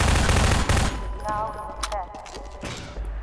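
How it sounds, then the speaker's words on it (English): Machine gun fire in the Half-Life mod Rebel Surge, a rapid burst of shots followed by a few scattered single shots and game effects. "Plenty of ammo for the machine gun."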